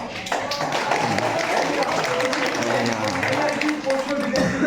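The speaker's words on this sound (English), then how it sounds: "So actual please give a round of applause for sir." A classroom audience gives a round of applause for a teacher after a student's public speaking talk, a dense, continuous patter of many hands clapping at moderate volume for several seconds.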